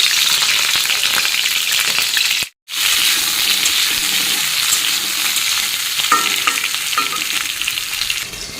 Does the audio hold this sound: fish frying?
yes